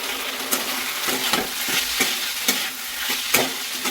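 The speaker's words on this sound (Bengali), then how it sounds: "আলুটা আমার প্রায় ভাজা হয়েই এসছে, তো এইবার এর মধ্যে সাবুটা অ্যাড করে দেবো" Sago is stirred into fried potatoes in a hot pan, with a continuous close sizzle of frying and regular scraping strokes of the spoon roughly every half second, no voices.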